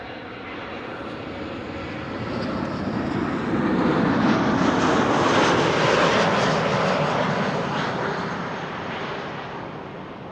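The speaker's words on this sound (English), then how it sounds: "Next up, Lufti flight 2302, arrival from Munich, A320neo." A Lufthansa Airbus A320neo arriving from Munich at Amsterdam Schiphol roars past in a broad jet rumble. It swells to a peak midway and then eases off, heard alone from a spotting position with no talk.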